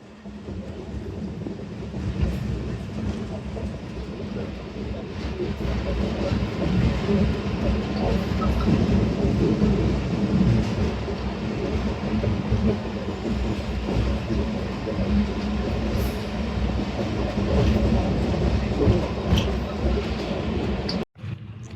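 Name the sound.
train passing through Gojra station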